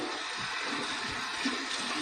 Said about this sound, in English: pulling towards the top of the knot underneath this running water